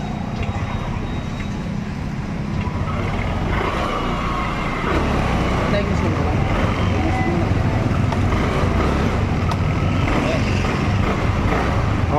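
A Yamaha Aerox V1 scooter engine idles steadily after starting, a continuous low running hum with a slight rise in level partway through, fairly close, no misfire audible, with faint background noise throughout.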